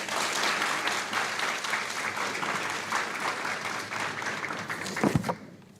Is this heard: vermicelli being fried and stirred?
no